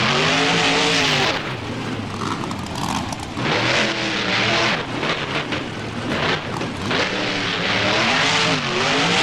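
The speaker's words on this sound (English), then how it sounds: "swings it immediately into a donut. Nice donut by Medusa." The Medusa monster truck in BeamNG spins a donut at a Soldier Field freestyle event, its engine revving hard and rising and falling in pitch as the tires churn, loud and close.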